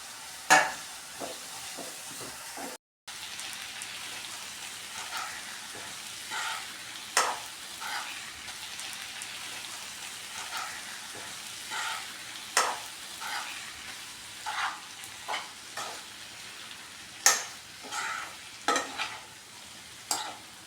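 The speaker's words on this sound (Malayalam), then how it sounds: "കുറച്ച് കറിവേപ്പില കൂടി ഇട്ട് കൊടുക്കാം." Crushed shallots and curry leaves frying in a pan for a fish roe roast, a steady close sizzle broken by repeated short stirring scrapes and crackling pops, with one brief dropout.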